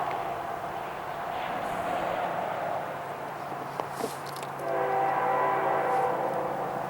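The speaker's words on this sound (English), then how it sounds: "First up would be 2960 heading east, with 3056 acting as the tail DPU." A Canadian National freight train rolling through a crossing on an S-curve, a steady rumble of wagons with a sharp clank midway, then a loud multi-tone horn blast sounding near the end.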